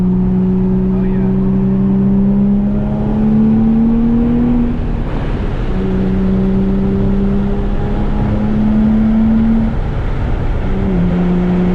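A bone-stock Nissan 350Z drives twisty roads, its engine droning steadily from inside the cabin and rising and falling in pitch through repeated gear changes and throttle shifts.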